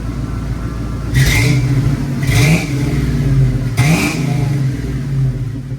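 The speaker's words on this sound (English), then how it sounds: "Just that old Flowmaster 40 sound" A deep, burbling car engine with a Flowmaster Delta 40 exhaust idles steadily, with three short throttle blips that swell into a throaty rumble and fall back.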